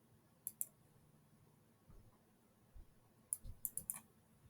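Computer mouse clicks sound in a quiet room as a map boundary is traced, a sparse scattering of sharp single taps: a pair early on, then a quick run of four or five near the end.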